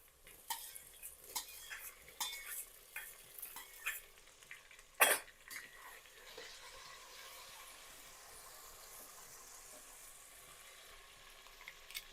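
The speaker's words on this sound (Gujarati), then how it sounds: "ડુંગળી અને મરચાં આપણું શેકાઈ ગયું છે. અંદર એડ કરશું ટામેટા." Tomatoes tipped into a pan of sautéed onions and green chillies and stirred, scraping clinks of a spoon against the pan over a soft sizzle, with one sharp metallic clang midway before gentle frying continues.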